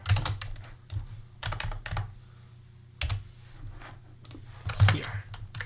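Fast typing on a computer keyboard while coding a grocery list app, with bursts of close, crisp key taps separated by brief pauses.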